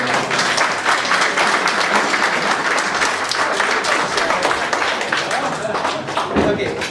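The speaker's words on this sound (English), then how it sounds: "so round of applause" An audience gives a round of applause in a room, dense, loud and continuous clapping with sharp individual claps standing out, sustained for several seconds with voices faintly mixed in.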